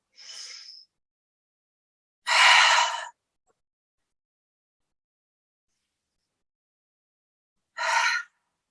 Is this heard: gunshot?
no